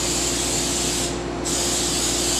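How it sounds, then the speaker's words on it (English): Non-stick pan spray misting the inside of a bread pan while making offering bread: a steady close hiss of aerosol spray lasting the whole moment, with a brief dip partway through. "just a light misting with Pam, or any kind of pan spray, non-stick pan spray"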